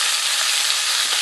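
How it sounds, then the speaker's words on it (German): Flour-coated bratwurst sizzle in a frying pan, a loud, steady, dense crackling hiss close up with no voices. "Die Bratwurst, die ihr am Anfang gesehen habt, habe ich in Mehl gewälzt und die brutzeln hier fröhlich in der Pfanne vor sich hin."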